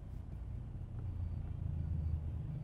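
An eight-year-old Audi A8L with air suspension rolls along slowly, its exhaust giving a low, steady rumble that swells slightly, heard from inside the car with no talking.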